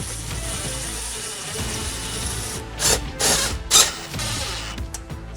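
A self-threading screw is driven into an aluminum sill in a RAM ProMaster City van, giving a close, grinding mechanical whir with a few sharp ratcheting bursts near the end.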